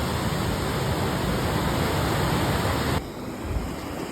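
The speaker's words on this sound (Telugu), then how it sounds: "ఈ ప్లేస్లోనే అంత వాటర్ వెళ్తున్నాయి చూడండి" Floodwater after heavy rains rushes through a stream in a loud, dense, unbroken roar close by, dropping slightly in level near the end.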